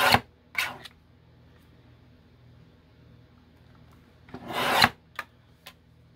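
Paper being trimmed for a junk journal: a few short scraping, rasping cuts, two brief ones at the start and a longer swelling stroke near the end, followed by small taps, otherwise quiet.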